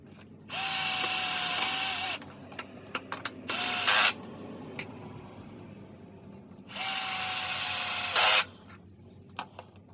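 A power drill drives screws into a round farmhouse-style wooden kitchen tabletop in three loud sustained whirring bursts, with short clicks and taps between them and no talk.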